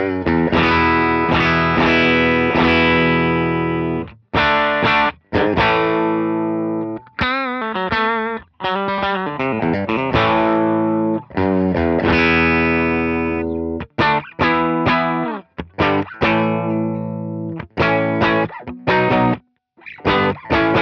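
An electric guitar runs through an overdrive pedal with the gain turned up to 12, giving thick, gritty sustained chords and quick choppy stabs with short pauses between phrases, loud and close, no talking.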